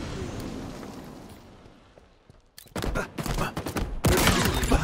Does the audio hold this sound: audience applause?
no